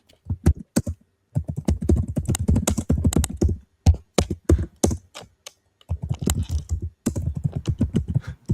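A computer keyboard typed on in close, rapid clattering bursts, with a few short pauses between runs of keystrokes.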